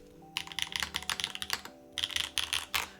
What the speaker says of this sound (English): It's great how keyboards can sound all so different.